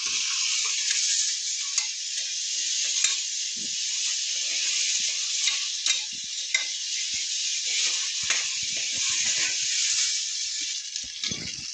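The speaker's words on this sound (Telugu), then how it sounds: "ఒక స్పూన్ అల్లం వెల్లుల్లి పేస్ట్ ఇది పచ్చివాసన పోయేదాకా వేసుకోవాలి" Ginger-garlic paste fries in a pan for vegetable pulao, giving a loud, steady sizzling hiss that carries unbroken from start to end. Light stirring clicks and scrapes sit beneath it.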